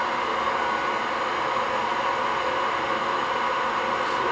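A hair dryer blows warm air onto a man's beard, a constant close broadband whoosh that holds steady and loud throughout with no talking.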